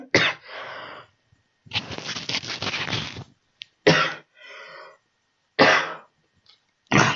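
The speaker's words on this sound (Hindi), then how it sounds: "थोड़ा सा खांसी हो रहा है बच्चों," A teacher coughs in a classroom lesson: several loud, harsh coughs in separate bursts, some clustered together, with short silent gaps between them.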